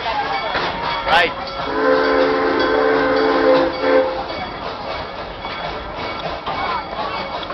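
A yellow train passes close by with a steady rolling rumble, and a loud horn-like tone sounds for about two seconds in the middle.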